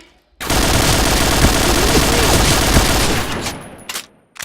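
Sustained automatic gunfire in the Point Blank shooter game, a loud continuous burst of rapid shots lasting several seconds, then a few final cracks before it cuts off.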